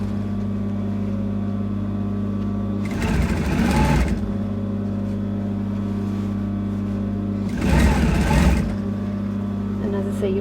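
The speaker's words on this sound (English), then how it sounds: "So you're basically sewing around in a full circle." A sewing machine runs in two short bursts of rapid stitching while fabric for a cape is turned in a circle, separated by a steady low hum.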